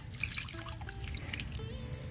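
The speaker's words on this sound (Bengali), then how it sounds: "এবার দেখুন আমি আপনাদেরকে একটুখানি জল দিয়ে দেখাচ্ছি যে কেন এটা আমি করি।" Water is poured onto a potted plant set in cocopeat and drains through, making a close trickling and dripping sound with small splashes, steady and fairly quiet, with no talk.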